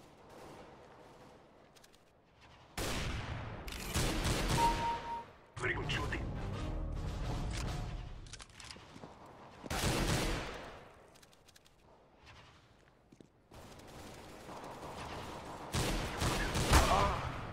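Auto sniper rifle fire in a CS:GO deathmatch comes as several separate loud bursts of shots with quieter gaps between them, while a player talks over the action.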